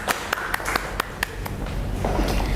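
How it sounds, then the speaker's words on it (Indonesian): Sparse clapping in a small classroom during a microteaching session: a handful of separate, sharp hand claps close by in an uneven rhythm, thinning into a softer patter of a few hands. "Ya terima kasih untuk tepuk tangan untuk Mbak Amarta"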